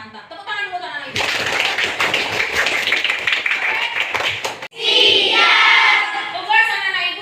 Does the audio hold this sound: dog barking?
no